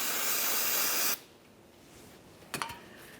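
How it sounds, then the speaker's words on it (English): Parts cleaner sprays from an aerosol can onto a Chevrolet Silverado 1500 rear axle differential housing in a steady loud hiss for about a second, then stops, followed by a short clink of a tool in a quiet garage. "we'll continue on with a rag and some parts cleaner directly on that"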